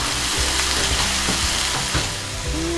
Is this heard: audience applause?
no